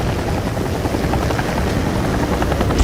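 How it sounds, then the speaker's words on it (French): A firefighting helicopter gives a loud, close, steady rotor thrum with a dense, even whooshing texture throughout, and no voices are heard. "Un hélicoptère de lutte contre l'incendie est toujours utilisé lorsque le feu est très difficile à atteindre."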